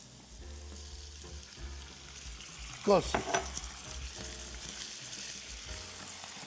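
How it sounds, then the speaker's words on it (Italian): White wine poured into a hot frying pan on high flame bursts into a loud hiss and sizzle, peaking sharply then settling into steady frying crackle, with a brief word spoken over it. "Mettiamo il vino, si alza la fiamma e Vino evapora."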